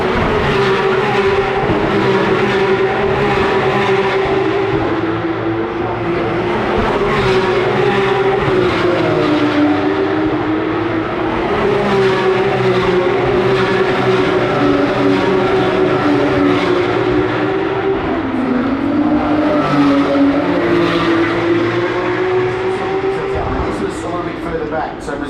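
V8 Supercars racing in a line, a loud, continuous roar of engines with rising and falling pitch as the cars pass through corners, with commentary over the top.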